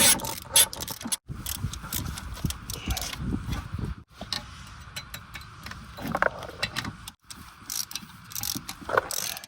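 Bolts being backed out of the electronic parking brake on a 2019 Toyota RAV4, heard as close, repeated ratchet clicks and metallic rubbing in bursts with short pauses.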